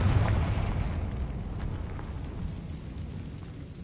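A Confringo blasting spell explodes in Hogwarts Legacy with a loud, rumbling burst at the start that decays into a lingering low roar across the rest of the moment.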